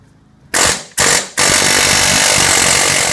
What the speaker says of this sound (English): I'm gonna take the air chisel, put it right on the little lip there